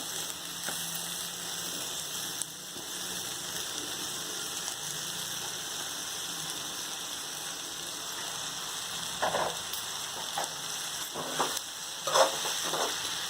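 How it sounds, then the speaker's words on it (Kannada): Tomato rice (chitranna) being stirred and mixed in an oiled pan: a steady close sizzle runs throughout, with sharper scraping clatters from the spoon toward the end. No one speaks. "ತಿರುಗ್ತಾ ಇದ್ದೀನಿ, ಚೆನ್ನಾಗಿ ಮಿಕ್ಸ್ ಮಾಡ್ತಾ ಇದ್ದೀನಿ"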